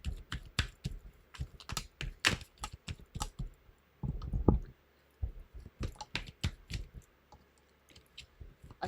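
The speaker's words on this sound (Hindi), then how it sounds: "अच्छे से शफल कर दूं मैं पहले" Tarot cards being shuffled, giving quick irregular close clicks and soft flicks in bursts, with a short pause between runs.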